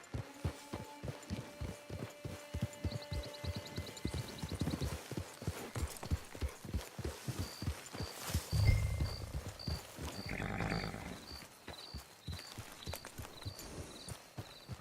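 Horse hooves clip-clopping in a steady rhythm in the Red Dead Redemption 2 video game, a close, loud pattern of hoofbeats on ground under faint ambient game sounds and brief animal noises, with no talk.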